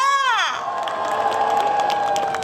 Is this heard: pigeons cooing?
no